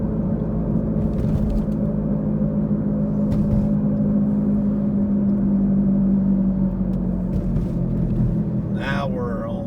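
A car drives through downtown Nashville near 12th Avenue and Broadway, with a continuous low engine and road rumble heard from inside the cabin and a voice briefly at the end.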